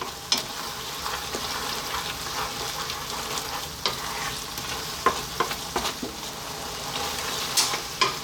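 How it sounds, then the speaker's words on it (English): Spinach curry simmers with a steady sizzle in an uncovered pan while a spoon stirs it often, giving repeated scraping clicks and soft taps over the continuous frying hiss, close and moderately loud with no talking. "just cook this for another 4 minutes, stirring often."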